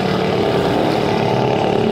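A turbocharged car engine at a rainy car meet gives a loud, steady, close droning hum with a faint rhythmic pulse.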